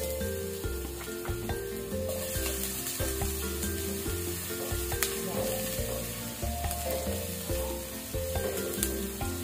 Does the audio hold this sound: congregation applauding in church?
no